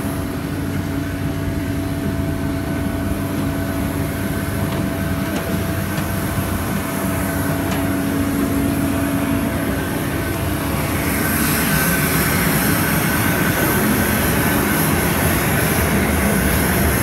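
A loud, steady roar of airplane engines fills the air on the approach on foot to a parked plane, a continuous drone with a tonal whine that swells slightly louder near the end.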